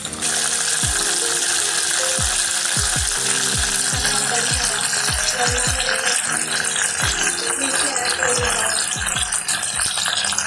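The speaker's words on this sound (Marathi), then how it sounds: "मी इथे एक पळी तेल घेत आहे तापलेलं आहे त्याच्यामध्ये आपण कढीपत्ता ॲड करणार आहोत" Curry leaves hit a ladle of hot oil in a pan, giving a loud, steady frying sizzle broken by repeated sharp scrapes and clinks of stirring.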